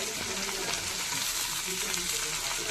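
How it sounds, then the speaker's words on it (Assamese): Greens fry with turmeric in a pan, giving a steady dense sizzle with soft stirring scrapes throughout and a faint voice underneath. "হালধি দি পেলাই ভালকৈ ভাজি ল'ম।"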